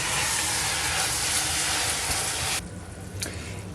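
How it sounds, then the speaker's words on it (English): Venison stir fry sizzles in a hot pan, a loud, steady hissing sizzle that cuts off sharply near the end and leaves a quieter residual crackle. "After 3 minutes of cooking in a sizzling hot pan, the venison is now ready."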